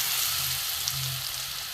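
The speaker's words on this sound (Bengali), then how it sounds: "সব কটা ভেজে নেব।" Papad pieces coated in gram flour batter fry in hot oil, giving a soft, steady sizzle with faint bubbling, quiet and heard alone.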